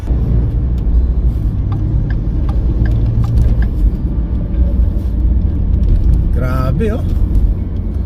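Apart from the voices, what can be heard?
car driving on slippery road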